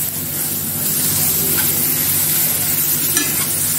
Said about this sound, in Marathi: आता घेतलेला कांदा आहे तो कांदा टाकते, बारीक करून घेतलाय तो घेते परतून मसाल्यामध्ये